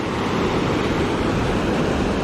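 Water roars through a dug irrigation canyon fed from the Sevier River in Utah, a loud, steady broadband rush that stays even throughout with no talk.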